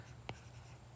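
Pen or marker strokes on a page, two short scratchy bursts at the start and end of a quiet moment, close and soft with no talking.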